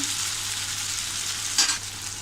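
Green peas sabzi sautés in a pan with a strong, steady sizzle, close and continuous. A single brief stirring scrape cuts in near the end, and no one speaks.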